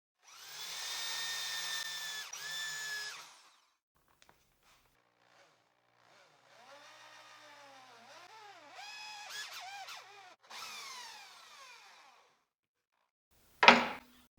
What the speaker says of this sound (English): With the manual drill and this 20mm Forstner bit, I'll drill these 2 points.